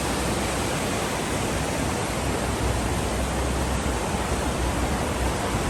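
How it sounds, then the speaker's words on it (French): A waterfall cascades steadily in Andorra, giving a loud, continuous broadband rush of falling water with no pauses and no voices. "C'est une cascade, pas une fontaine."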